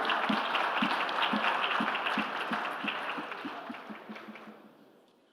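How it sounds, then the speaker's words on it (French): Audience applause for a panelist at a tourism forum panel, steady clapping with a rhythmic pulse that gradually dies away toward the end. "Merci de l'applaudir."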